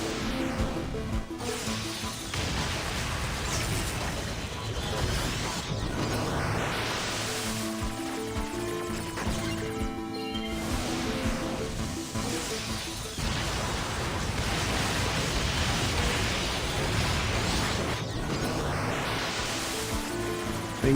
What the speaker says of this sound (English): Things are happening right now, namely explosions.